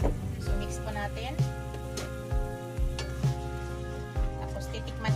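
Ingredients for adobong isda, sweetened with a spoonful of white sugar, sizzle in a pan while being stirred, with repeated scraping knocks of the spoon cutting through the steady frying hiss.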